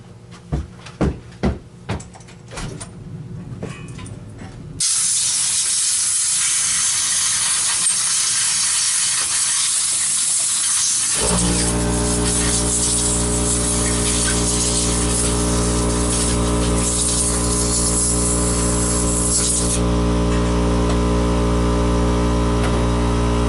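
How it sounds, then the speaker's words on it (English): Compressed air hisses in a strong, continuous blast as it blows dirt out of a Dyson DC39 Animal canister vacuum. A few knocks and clicks come first, and then the loud, steady rush of air runs to the end. "I'm going to blow that out with compressed air."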